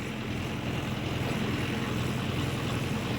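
A Mahindra Yuvo tractor engine drives a rotavator through moist soil, giving a continuous loud, steady diesel drone with a rough churning texture and no noticeable change in load, with no voices.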